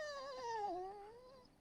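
A dog companion in the fantasy role-playing game Dragon Age: Origins lets out a single drawn-out, wavering whimper that sinks and then rises, fairly close and clear, with no talk over it.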